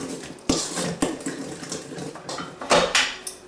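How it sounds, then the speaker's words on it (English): Water and oil poured into a mixing bowl already holding flour for whole wheat bread dough: close, uneven splashing and trickling with a few sharp clinks against the bowl, no talking. "we're going to go ahead and pour all of our water in and the oil"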